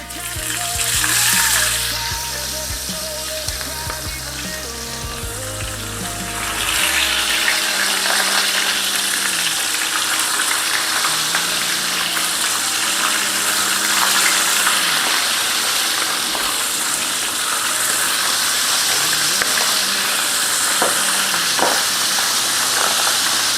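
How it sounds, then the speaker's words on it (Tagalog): Fish sizzles in hot oil with a steady, hissing crackle that rises louder after a few seconds and continues alone, with faint clatter in the background. "Mag-prito na tayo ng ating isda at mainit na yung mantika"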